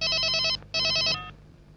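A telephone bell rings in two short bursts with a brief gap, fairly clear and unaccompanied by talk.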